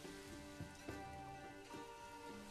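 Steady rain falls over wheat and flax fields in the medieval city-building game Manor Lords, a constant soft hiss at a low level with a few faint thuds, and no voices.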